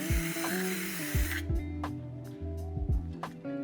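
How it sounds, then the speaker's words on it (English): A spray gun lays a medium wet coat of paint onto a test card from about eight inches away. A loud hiss runs for about a second and a half, then shorter trigger bursts follow. "So here's our first coat. Make sure we're doing medium wet coats about 8 inches away"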